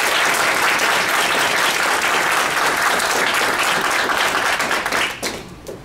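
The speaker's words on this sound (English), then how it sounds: "Let's give this group a nice round of applause." Sustained applause from a crowd, steady and full for about five seconds before tapering off at the end.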